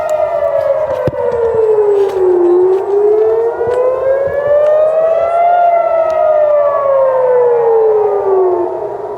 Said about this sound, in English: we got another siren